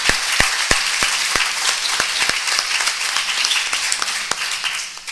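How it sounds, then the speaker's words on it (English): An audience applauds a conference panel at a Senate committee hearing on aging and long-term care, with dense steady clapping and a few sharper individual claps standing out, fading slightly at the end. "Let's give our panel another round of applause."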